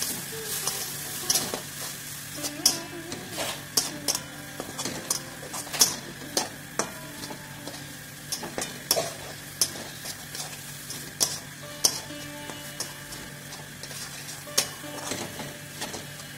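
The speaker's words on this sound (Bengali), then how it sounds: "এর মধ্যে দেখুন আমি হলুদ অ্যাড করে দিলাম। এটা ভেজে দেবো।" Turmeric fries in a pan for handi chicken, holding a low steady sizzle with a regular clack of the spoon against the pan roughly every second, near and moderately loud, with no voices.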